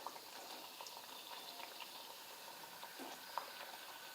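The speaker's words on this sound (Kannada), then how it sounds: "ನಾವು ಲೋ ಟು ಮೀಡಿಯಮ್ ಫ್ಲೇಮಲ್ಲಿ ಇಟ್ಟು ಫ್ರೈ ಮಾಡಾಕತ್ತೀವಿ ರೀ" Chiroti sweets fry in oil over a low to medium flame, giving a faint, steady bubbling crackle with small pops throughout and no talk.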